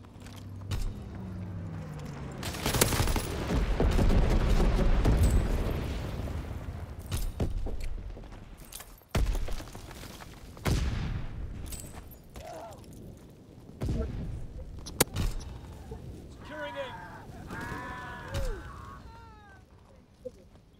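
Incendiary bombs from a bomber run in the WWII shooter Call of Duty: WWII burst in loud, rumbling explosions with crackling fire, fading into scattered later blasts and sharp game effects while a player's voice is heard faintly.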